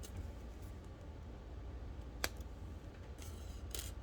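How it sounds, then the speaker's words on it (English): Scissors snipping jewelry wire off a spool, a single sharp close cut followed by a couple of softer clicks and rustles at the end. "And I'm going to snip off about 5 inches."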